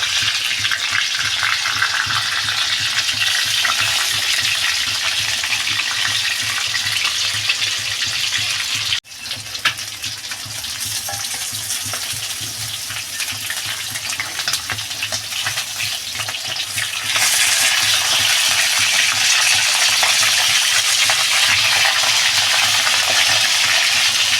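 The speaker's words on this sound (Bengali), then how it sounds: "মাছটা লাল লাল করে ভেজে নেবো" Tilapia fish frying in hot oil for a Bengali curry with taro root, a loud continuous broadband sizzle throughout, briefly interrupted once and growing louder toward the end as the fish is turned.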